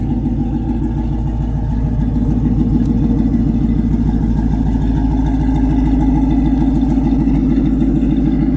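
A 2001 GMC Yukon engine idles steadily after a fuel pump replacement, with a loud, even low rumble and rhythmic clatter that holds without a break throughout.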